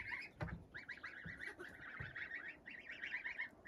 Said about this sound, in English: All the geese are out tonight.